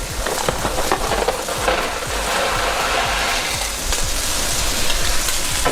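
Pasta in a pot of salted water at a strong rolling boil, a steady dense bubbling and hissing wash that holds at an even level throughout, close and alone with no talk.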